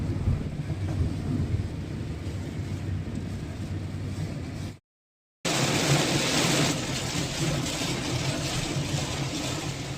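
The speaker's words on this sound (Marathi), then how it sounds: "खूपच पाऊस आहे. अगदी समोरचं दिसत नाही इतका पाऊस आहे." Heavy monsoon rain pours down during a car journey near Panvel in the Konkan, a dense, continuous roar of rain and wind noise, cut by one brief moment of silence midway.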